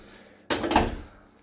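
A heavy front door of a flat in a residential complex in Alanya, Turkey, opening with a sudden sharp clunk of the latch, followed by a brief rattling swing that fades within about a second.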